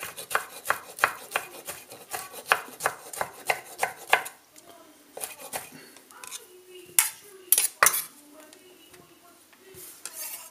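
Dried apricots are roughly chopped on a board, a quick run of sharp, evenly spaced knife strikes that slows into a few scattered louder chops and light scraping.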